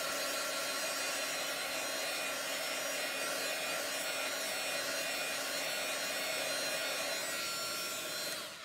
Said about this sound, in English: This is a heat tool, so that's all that is.